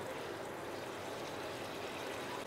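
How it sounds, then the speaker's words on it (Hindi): Water poured into a pan of cooking bottle gourd and soybean curry, a steady broadband trickle and splash running continuously for a few seconds with no talk over it. "करीब आधा कप हम पानी डाल देंगे"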